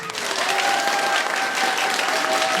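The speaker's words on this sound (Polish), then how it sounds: "Wielkie brawa!" Audience applause at a Grandparents' Day celebration (Dzień Babci i Dziadka), dense steady clapping from a crowd filling the whole stretch, loud and close, with faint tonal hints and possible voices underneath.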